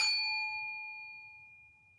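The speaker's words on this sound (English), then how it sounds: "reduce the volume before I hit the bell, the bowl." One struck singing bowl rings out with a bright metallic attack, then a long, pure, slowly fading tone that lingers without any other sound.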